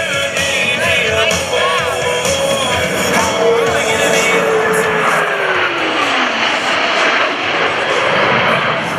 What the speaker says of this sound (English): Blue Angels 5 and 6 are approaching the flight line in a line of rest formation